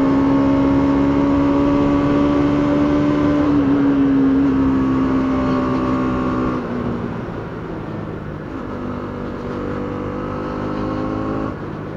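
A 2025 Bajaj Dominar 200 motorcycle, rated at 24 hp, accelerates hard up a mountain road, its engine note climbing through the gears in loud, close rising whines with brief shift dips.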